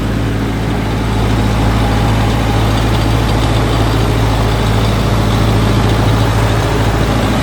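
A tractor engine holds a steady run near 1500 rpm to drive a crop sprayer, a loud, even low drone that continues throughout without talk.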